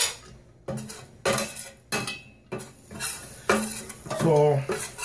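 Khichdi ingredients get stirred in a metal pot with a spoon, giving intermittent scraping and clinking strokes in short bursts with a faint sizzle beneath and quiet gaps between.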